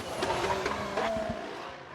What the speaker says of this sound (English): Sounds like a single car.